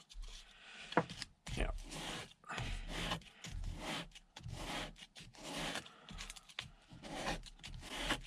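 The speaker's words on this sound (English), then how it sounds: "I have it all sitting on a piece of sandpaper and sanding it." A thin bridge shingle for a 1960s Kay Swingmaster guitar is rubbed back and forth on sandpaper, giving close, repeated rasping strokes in a steady rhythm with brief pauses between them.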